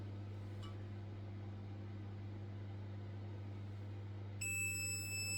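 A car battery tester gives a steady, clear beep during a 150-amp load test on a hybrid's 12-volt battery, such as a Toyota Yaris or Lexus LBX. The tone starts near the end over a constant electrical hum, loud and close.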